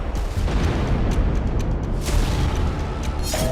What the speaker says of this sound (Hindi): अचानक ऊपर वाले फ्लोर से एक रॉकेट टकराया।